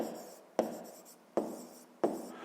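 Pen strokes on paper during a sixth-grade maths exercise, a steady scratchy scribble broken by three sharp taps as the pen meets the page, close and fairly quiet with no talk.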